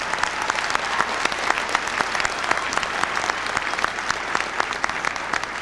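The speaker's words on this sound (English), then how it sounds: "I would appreciate it if you would applaud these wonderful graduates as well." Graduation audience at the Art Institute of Seattle claps for its 1999 graduates, a steady, even wash of many hands applauding throughout at close, moderate loudness.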